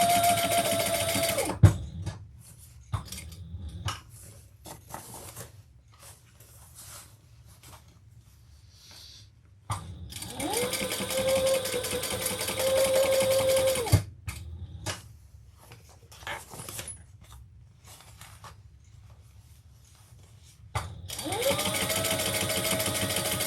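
A sewing machine top-stitches a bag in three loud, rapid runs of several seconds each, separated by quieter pauses with faint handling sounds.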